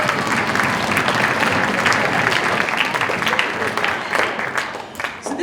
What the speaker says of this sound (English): Can we give the band one more round of applause?